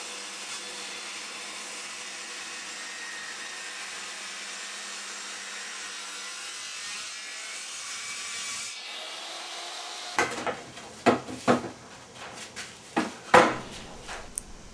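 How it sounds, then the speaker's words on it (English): A bench saw's steady whirring hum runs for about ten seconds, then gives way to a series of loud, sharp knocks and scraping bursts of wood slabs being handled and cut. "then I cut slabs using the bench saw"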